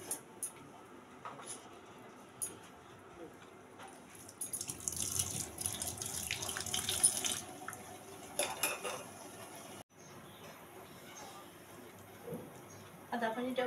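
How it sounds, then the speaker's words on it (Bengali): Boiled ginger water with lemon and honey is strained, a few seconds of splashy pouring set between light clinks of pots and utensils, fairly quiet overall. "আমার আদা পানিটা হয়ে গেছে। এখন আমি ছাঁকিয়ে নেব।"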